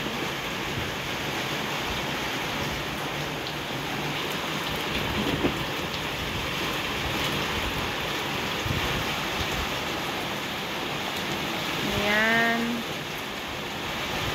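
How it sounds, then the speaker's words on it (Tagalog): Gusty wind from Typhoon Paolo in Luna, La Union roars in a dense, continuous wash close to the microphone, steady throughout with a brief tonal squeal near the end and a short spoken word. "Medyo mahangin lang talaga siya. Ito ang Bagyong Paulo."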